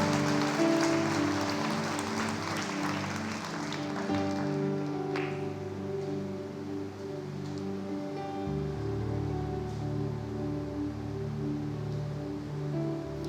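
Church congregation claps for the Lord during a sermon, a dense patter of applause over sustained background music that gradually thins out as the music carries on.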